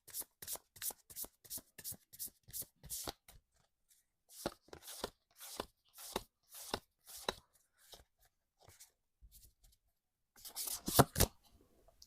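Tarot cards handled and shuffled, crisp papery flicks in quick bursts, then slower slaps and a final riffling flurry, close and quiet with no talking.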